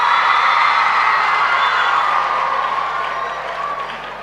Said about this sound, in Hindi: एक बार लड़कियों के लिए ताली बजा दो आप लोग